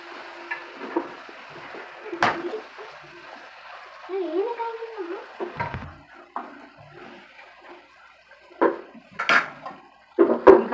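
Mutton curry being stirred in a cooking pot, with intermittent scraping and clinks of a spoon against the metal sides alongside soft sizzling, under a voice talking close by.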